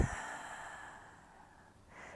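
A soft, slow breath pushed out through the mouth, starting with a brief louder puff and trailing off into a quiet airy hiss.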